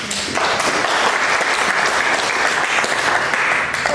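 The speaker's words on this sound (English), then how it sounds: "I'm not used to round of applause" Audience applause after a speech at an Expo 88 art trail development event in Coorparoo, a dense, even wash of clapping that starts abruptly and carries on steadily for several seconds.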